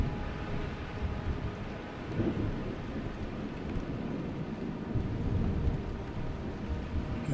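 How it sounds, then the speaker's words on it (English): Steady rain with low thunder rumbling through it in the video game Vein, a continuous dense wash of sound with a swell of thunder around the middle and no voices. "Raining."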